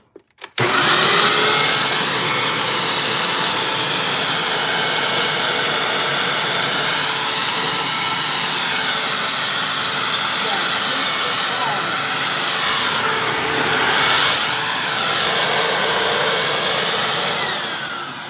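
A vacuum cleaner runs loud and close for the whole stretch, its motor note wavering and dipping as it bogs down, with brief handling clatter at the start as it switches on.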